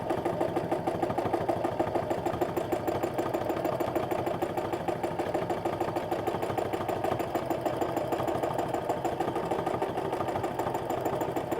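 A sewing machine runs continuously for stipple meander free motion quilting, its needle chattering in a rapid, even rhythm, close and steady with no talk.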